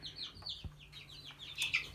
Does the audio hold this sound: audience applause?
no